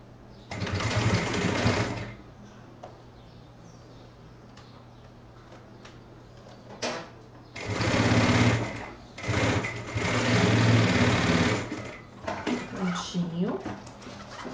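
A sewing machine stitches a backpack in three loud whirring bursts of about two, four and two seconds, separated by quieter handling sounds.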